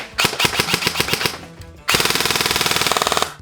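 Airsoft gun shooting green BBs through a Brighter C tracer unit: a short string of rapid, sharp shots, then a longer continuous full-auto burst, loud and close with no talking.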